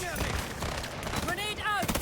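Gunfire in the shooter game Highguard, rapid overlapping shots in close-range combat, mixed with voices and whooshing effects through a busy, loud two-second stretch.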